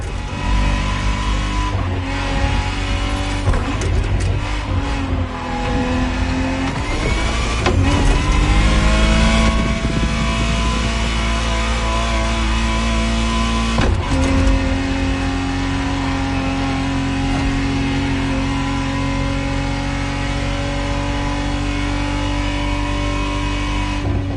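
A 1991 Ferrari Testarossa 512 TR in The Crew Motorfest revs hard, its engine pitch climbing and dropping through several surges before settling into a sustained, loud drone, heard up close with no voices.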